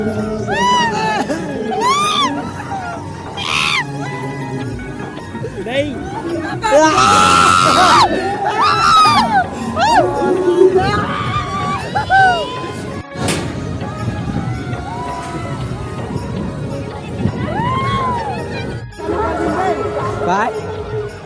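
Riders on a swing ride at a village fair scream and shout together as it gets going, loud and close, over a dense crowd with chatter and occasional thuds.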